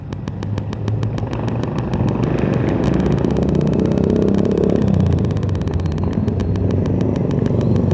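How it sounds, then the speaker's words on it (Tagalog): A motorcycle engine roars loudly and steadily, with a metallic clattering rattle mixed into the rumble throughout, after the motorcycle slid in an accident in Lobo, Batangas. "Nag-slide yung motor, oh."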